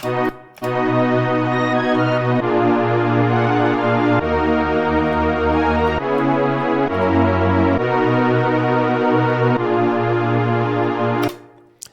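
The same K-pop beat melody plays dry without effects, with a bright synth lead over shifting bass notes in steady, loud phrases, starting after a brief pause and cutting off near the end.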